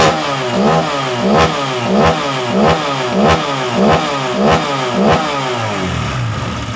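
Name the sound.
Honda PCX 150 scooter engine revving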